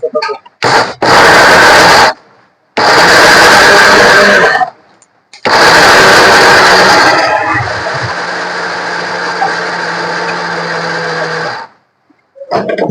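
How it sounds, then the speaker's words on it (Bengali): A blender grinding an oily ingredient into powder whirs close by in several short loud pulses, then runs longer at a steadier, lower grinding hum before stopping. "এখন এটার আমি একটু ব্লেন্ডার করে নিব এই ব্লেন্ডারটা আস্তে ঘুরাইতে হবে"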